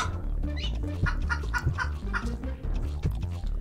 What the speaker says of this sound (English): Hang on, I'll use the decoy chicken.